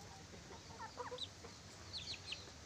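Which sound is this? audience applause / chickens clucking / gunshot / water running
chickens clucking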